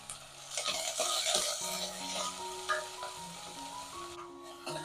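Sliced large onions with a green chilli and curry leaves sautéing in a pan, a continuous close sizzle broken by scraping stirring strokes, with no voices.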